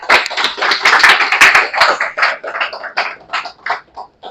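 A small audience at a Hindi business seminar claps, starting as dense, lively applause and thinning into scattered individual claps toward the end.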